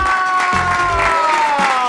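A studio audience on a Pakistani talk show claps and cheers to welcome guests Salma Hasan and Mohsin Abbas Haider, mixed under loud, sustained entrance music.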